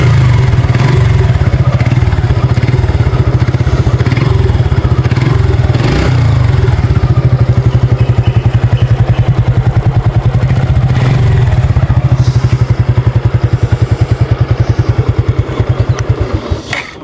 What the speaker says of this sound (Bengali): এখন আপনাদেরকে বাইকটার ইঞ্জিন সাউন্ড একটু শুনে দিই।